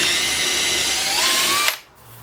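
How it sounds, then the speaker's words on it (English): A power drill whirs loudly and steadily, its pitch rising slightly before it cuts off abruptly, leaving quiet room tone. "So I might drill the holes a bit bigger"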